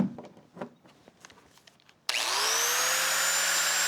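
A handheld power tool such as a die grinder or saber saw, running on an OUPES portable power station, kicks on abruptly after quiet handling noises and then whines steadily and loudly at a constant pitch.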